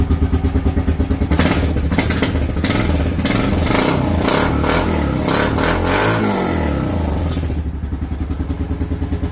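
A Honda Foreman 450 ATV engine in a freezing garage fires and runs loud and close, with a rapid steady exhaust pulse, a brief rev burst mid-clip and clattering, rough exhaust noise before settling back to a chugging idle.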